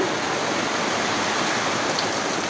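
Heavy rain pours down steadily during an outdoor laundry session, a dense, even roar that stays loud and unbroken with no voices over it.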